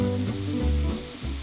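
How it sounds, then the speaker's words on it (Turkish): Chopped vegetables with sun-dried tomatoes sizzle in hot olive oil in a pan, a steady crackling hiss with low hum and occasional shifts as the food settles, no voices. "Birazcık zeytinyağı ile sotelemeye başlıyoruz."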